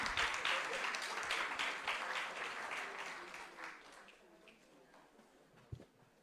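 Audience applause fills a parliamentary chamber during a youth parliament mock sitting, steady and broad at first, then gradually thinning out over several seconds, with faint voices mixed underneath and a single sharp knock near the end.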